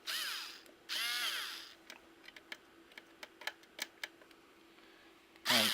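Phillips screwdriver turning screws out of an Xbox 360 case, with short ratcheting squeaks at the start and end and a series of small sharp clicks and ticks between, close up and quiet.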